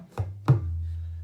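A tabla baya, the bass drum of the pair, struck twice alone, each stroke a deep booming thump whose low tone rings on and sustains after the second hit.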